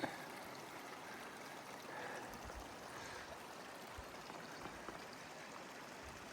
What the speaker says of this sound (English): I have a nice little creek to look at